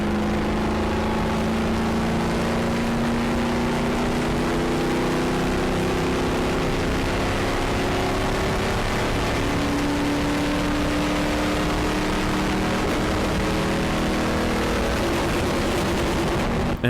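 A NASCAR race car at Daytona holds a steady high rev near 5,000 RPM, a loud, continuous droning engine tone from inside the car that barely changes over the whole stretch.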